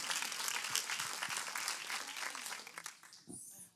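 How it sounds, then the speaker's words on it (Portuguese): A church congregation applauds the Lord with a dense wash of clapping that thins and fades toward the end. "Aplauda o Senhor."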